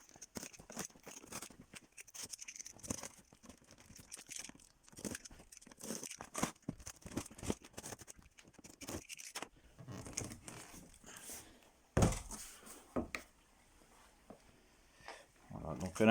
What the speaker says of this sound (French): Et puis déballer le carton.